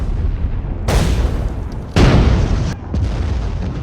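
An artillery barrage in a Band of Brothers war drama: several heavy, close explosions roll out one after another over a low rumbling background, each a deep blast with a sharp onset.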